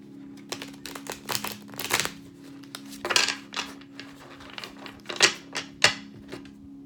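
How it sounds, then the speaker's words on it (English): A deck of tarot-style cards is shuffled by hand in a quiet room, with a series of crisp riffling and flicking bursts at an uneven rhythm, each brief and fairly close, set over a faint steady hum. "As soon as one drops, I'm going to stop the deck shuffle, and then we'll start going."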